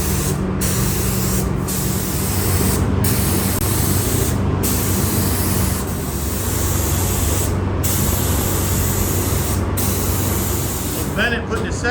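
Aerosol spray paint going onto a mailbox for a second coat, long continuous hissing bursts separated by brief gaps, close and loud, with people talking over it.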